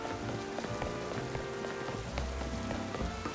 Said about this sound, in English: look at there, it's raining now